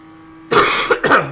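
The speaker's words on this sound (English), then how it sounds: "Oh, dear, coughing my guts up." Two short, harsh coughs close to the microphone, the second following about half a second after the first, with silence before them.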